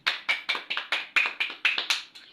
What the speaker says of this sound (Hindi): सारे तालियां मिलके हो जाए।